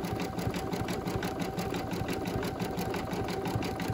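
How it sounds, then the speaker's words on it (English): An embroidery machine stitches a triple stitch around the edge of an in-the-hoop mug rug, a steady, rapid rhythmic whirring and needle pulsing that runs unbroken and alone at moderate loudness. "It's going to do a triple stitch all around."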